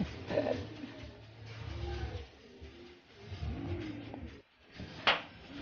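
Racing pigeons cooing as they fight, in a low repeated murmur with brief louder flutters, close by amid background noise during a fun race training loft session.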